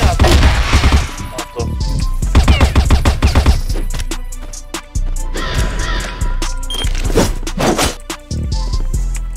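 Rapid bursts of gunfire in a shooting video game, loud and close, firing in quick rattling volleys with short pauses between them, with faint voices underneath.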